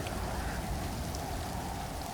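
Steady rain falls in the survival video game Stranded Deep, an even, dense hiss of drops on surfaces that stays constant throughout.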